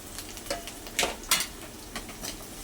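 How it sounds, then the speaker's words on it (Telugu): Chopped garlic added to onions already frying in a pan, with soft sizzling and a few sharp stirring clicks and scrapes, close and fairly quiet, no voices. "ఇప్పుడైతే ఎర్రగడ్డ వేగుతూ ఉంది కదా, దాంట్లో ఈ తెల్లగడ్డ"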